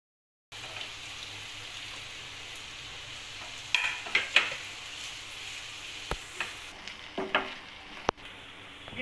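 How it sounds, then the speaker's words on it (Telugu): Chopped onion, carrot and potato fry in a pan for a potato omelette, a steady close sizzle broken by several clinks and scrapes of stirring, with no talking. "ఫస్ట్ ఆనియన్ వేసాను, కొంచెం పచ్చి స్మెల్ పోయాక ఇప్పుడు క్యారెట్ పొటాటో 2 వేసేసుకోవాలి."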